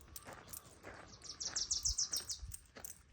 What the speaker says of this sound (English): Hear the sounds of the birds in the morning.